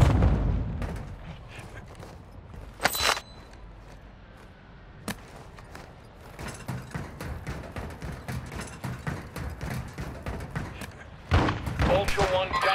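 Scattered gunfire and heavy thuds in a military video game, isolated loud shots and impacts breaking through a low rumbling background, with a radio-style voice talking over parts of it.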